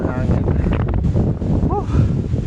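Strong mountain wind gusts buffet the microphone with a rough, continuous roar, while a voice speaks faintly beneath.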